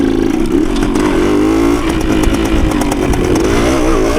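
A 1980 Suzuki TS185 two-stroke motorcycle engine buzzes loud and close while being ridden uphill, a raspy, chainsaw-like drone that bogs slightly, then picks up again, without voices.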